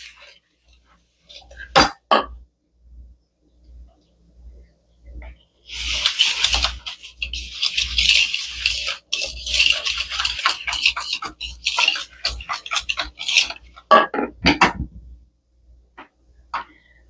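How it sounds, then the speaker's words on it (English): A whisk stirs zucchini bread batter in a bowl with a quick, steady scraping swish that runs for several seconds, paired with a soft rhythmic knocking. Close, sharp clatters come before and after. "I'm going to whisk this together."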